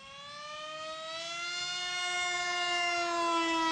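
Radio-controlled model airplane motor at full throttle, a high tonal whine that climbs slightly in pitch and swells louder over several seconds, heard alone without talk.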